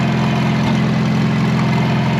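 A Case 970 tractor engine idling, a loud, steady, low rumbling throb with a regular pulsing beat that continues unbroken, close by and with no talk.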